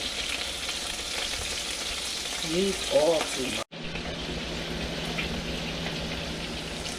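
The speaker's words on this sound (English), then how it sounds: "So as you can see, it is still frying up." Pork ribs frying in a pan with a steady sizzle throughout, with a brief spoken remark midway and a sudden cut before the sizzling resumes.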